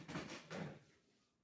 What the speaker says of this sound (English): I'm opening my door.